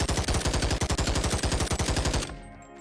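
A Galil rifle chambered in 5.56 fires on full auto in the VR video game Boneworks, a rapid, loud, evenly spaced stream of about two dozen shots for two seconds, then stopping abruptly with a brief mechanical ring.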